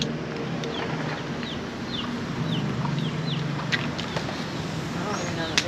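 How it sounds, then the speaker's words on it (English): Chickens clucking in a farmyard in Puerto Rico, short rising calls repeating through the scene, joined by scattered bird chirps and a low murmur of people talking. "The chickens might eat a dog biscuit."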